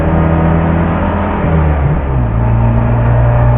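A 1970 MGB's engine runs loud and close through a muffler rusted through, giving a steady raw droning rumble with a brief dip in pitch partway before settling back to an even idle-like roar.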